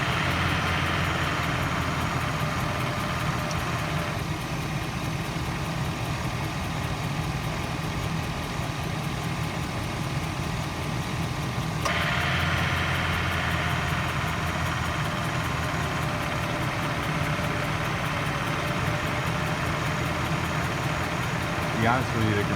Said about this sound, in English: the compressor really doesn't sound that healthy